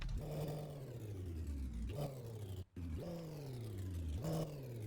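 A synthetic custom car engine sound in a video game revs up repeatedly, pitch climbing and dropping with each throttle blip, with one brief cutout in the middle.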